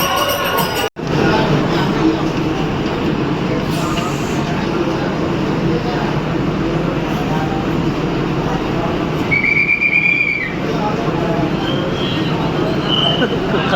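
Crowded local train in motion with a passenger hanging at the open door, steady loud rumble and rattle throughout, one brief squeal near the end, and voices talking over it.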